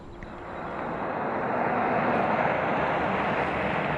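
A fixed-wing airplane roars loudly and steadily, its broad engine noise rising slightly as it draws nearer and then holding.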